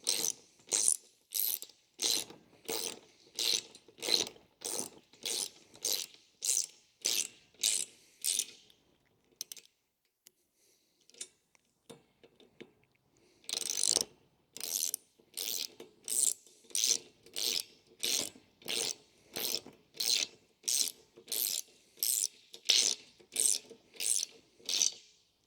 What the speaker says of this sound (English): your 11mm socket, and you'll start just tightening down until this is nice and snug